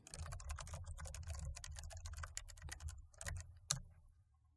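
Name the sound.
typing on a computer keyboard to enter certificate fields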